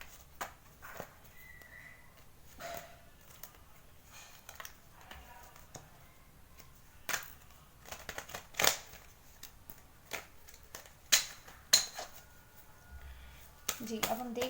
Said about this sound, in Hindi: सबसे पहले मैं टैरो कार्ड को शफल कर लेती हूँ